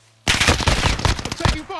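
Sudden rapid automatic gunfire in a shooter game, a loud close burst of rattling shots starting abruptly and continuing for over a second, with a voice briefly at the end.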